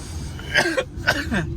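An older woman with betel nut stuck in her throat lets out a couple of short, rough coughs close by, with throat-clearing in between.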